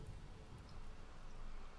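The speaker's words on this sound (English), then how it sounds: "It's raining, so it'll go away." Rain falling in the video game RimWorld, a soft, even patter and wash of rainfall that stays quiet and constant throughout, with no talking.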